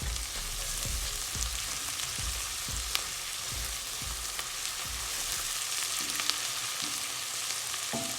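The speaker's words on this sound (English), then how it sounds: "Onions are fried and a bit translucent. Add the ginger and garlic." Onions, ginger and garlic sizzle in a pan for Indian vegetable pilau rice, a steady frying hiss with repeated scraping stirs every half second or so, close up and with no talking.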